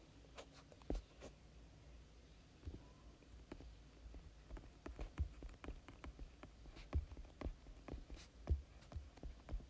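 Quick pen or chalk strokes of someone writing out a statistics question, a faint scratchy tapping series of short marks at close range with no talk.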